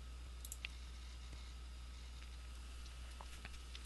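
Mouse clicks sound on a computer running CarveWright design software, a few small sharp clicks spaced over a low steady hum, close and quiet with no talking.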